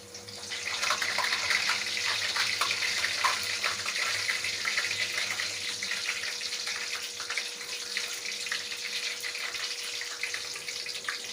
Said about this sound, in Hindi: अब मैंने घी गरम कर लिया है। इसमें ये मैं पूड़ी ऐड कर रही हूँ।